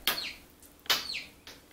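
A house full of baby chicks peeping indoors, three sharp rising-then-falling chirps in quick succession, fairly close and clear, with no talking over them.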